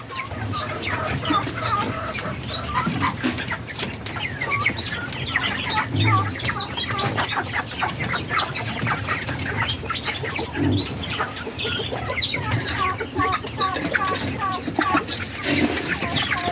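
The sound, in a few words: broiler chickens clucking after feeding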